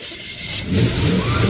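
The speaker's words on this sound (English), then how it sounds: "They put in his creation, the fuel made from plastics, and the engine starts up." An engine fueled with gasoline made from plastics cranks and catches, quickly rising into a loud, close revving roar that continues to the end.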